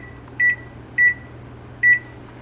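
A kitchen timer is set for boiling eggs, giving three short, clear electronic beeps spaced under a second apart over a low steady hum, with no talking.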